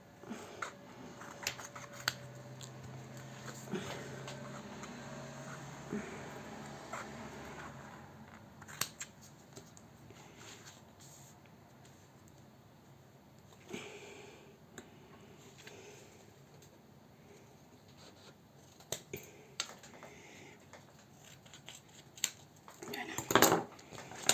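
Scissors snipping the corners of a paper junk journal album: quiet, sparse clicks and small crisp cuts with paper rustling, close and faint, ending in a short burst of louder snips.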